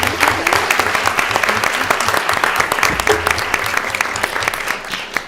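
An audience at a school board of education meeting gives a round of applause for students and staff, a loud, dense and sustained burst of many hands clapping that holds steady and tapers slightly at the end.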